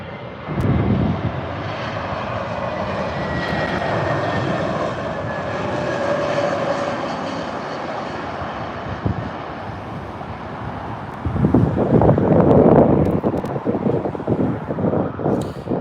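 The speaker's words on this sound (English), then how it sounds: "Here comes the 321 LR." An Airbus A321LR jet landing at London Gatwick Airport, a loud steady engine roar drifting across for most of the clip with wind buffeting, swelling again near the end.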